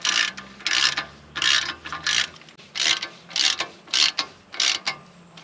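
A ratchet snugs bolts on the CV joint of an 80 Series Land Cruiser in repeated bursts of rapid clicking, several strokes in quick succession, close and loud with no talking.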